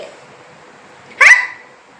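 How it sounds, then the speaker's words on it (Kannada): A small puppy gives one short, high yelp-like bark, close and loud against an otherwise quiet background. "ಸಣ್ಣ ಪಪ್ಪು ಅದು ನಾಯಿ ಮರಿ"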